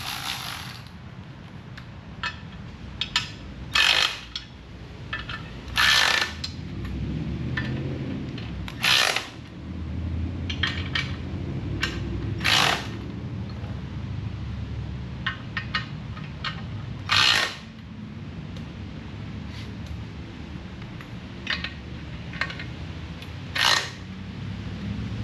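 Bolts being tightened on a car drivetrain: close metallic ratcheting and wrench clicks in irregular bursts over a low rumbling mechanical background, with no talk.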